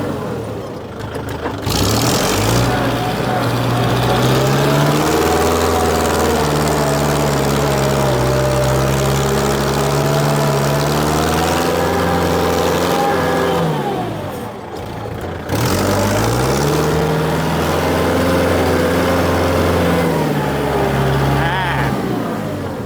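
A 2012 Kubota L4708DT tractor engine runs loudly up close, revving up and holding a steady diesel roar, then dropping briefly before revving again, while someone talks over it.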